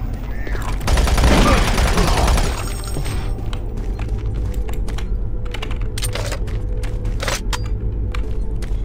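Shotgun-wielding enemies fire in the Doom 3 BFG video game, a dense burst of loud gunfire early on followed by scattered sharp shots and clatter, with someone talking over the action.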